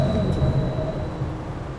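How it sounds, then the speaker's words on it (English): An old tram running in a video game, a steady rumbling rail roll with a faint thin squeal above it, loud and continuous throughout, with no talking. "I'm in an old tram."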